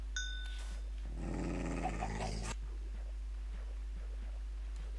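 Angry Minecraft wolves snarl and growl in a short rough burst of about a second, close and fairly loud, over a steady low game hum with no talk.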